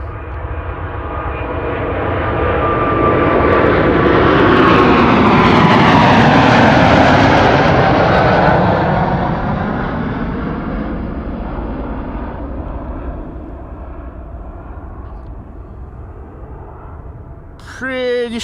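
The KLM Orange Pride airliner takes off at Amsterdam Schiphol on a sunny winter day, its engine roar swelling to a loud peak mid-pass, then receding into a long fading rumble, with a brief clatter near the end.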